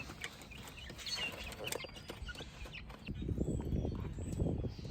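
Chicks peep faintly in a brooder converted from a quail coop and warmed by a heat lamp. The thin, high chirps are scattered over a low rustling background that grows slightly louder toward the end.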